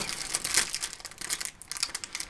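Plastic packaging crinkles and crackles close up in irregular bursts, a dense crisp rustling with brief pauses and no voices.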